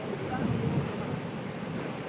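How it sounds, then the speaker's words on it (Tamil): The Amaravathi river rushes loudly at Dharapuram after high water release, a constant close roar of churning water with wind noise on the microphone. "தண்ணி சவுண்டு, அதாவது காதை கிழிக்குதுன்னு சொல்லலாம்."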